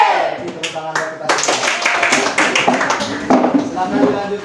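A primary school class claps hands together after a cheerful sing-along, giving a dense, lively patter of claps that runs under children's and a teacher's voices throughout.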